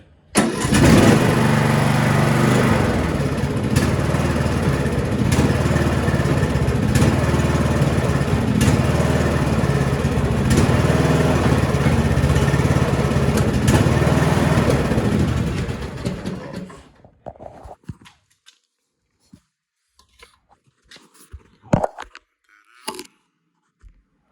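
A 2011 Craftsman LT1500 riding lawn mower engine cranks, catches and runs at a loud, steady drone for about fifteen seconds, then shuts off, leaving faint scattered clicks and knocks.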